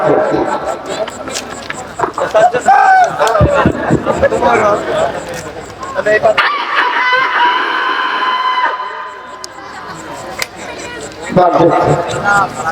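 A person imitates rooster crowing and hen clucking, with a sustained crow-like call in the middle and clucking bursts around it, while a crowd murmurs and talks nearby.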